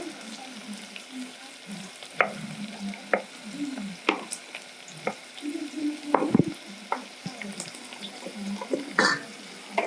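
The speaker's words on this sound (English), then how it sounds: "As you can see, you can now cook the liver." Liver frying in a pan with a soft, constant sizzle. Scattered clacks of a utensil stirring and scraping come at irregular moments over about ten seconds.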